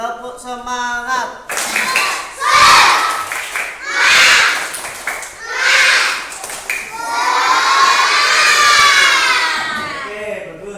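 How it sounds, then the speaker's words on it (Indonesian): Third-grade primary schoolchildren in an Indonesian classroom perform a loud spirit clap cheer, with rhythmic group clapping and shouted chanting in bursts, then a long sustained crowd shout of children's voices near the end. "Yang keras lagi, tepuk semangat."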